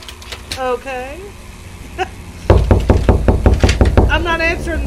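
Repeated knocking on a door in the video game Locked Up, a steady run of sharp, loud raps in the second half, with speech and vocal sounds heard before it.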